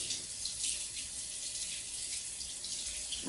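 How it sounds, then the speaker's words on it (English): Hot water running from a tap over canister elbows during cleaning, a steady, soft hiss of flowing water with faint splashing, heard alone. "wash them under hot water"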